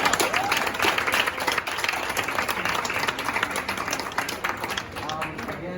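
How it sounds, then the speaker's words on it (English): Applause from an audience at a farewell speech, a dense wash of many hands clapping steadily at moderate loudness, with voices and cheering mixed in throughout. "let's just give one more round of applause for everyone."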